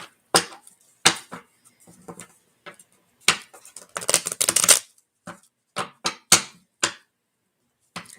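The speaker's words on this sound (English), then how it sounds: "I'm going to continue shuffling" Playing cards being shuffled in a series of crisp riffles and snaps, each burst short and close, with a longer fluttering run in the middle and pauses between.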